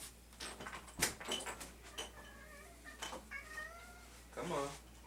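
A house cat meows repeatedly at a door waiting to be let in, several short close cries mixed with a sharp knock or door clatter, while a person talks intermittently.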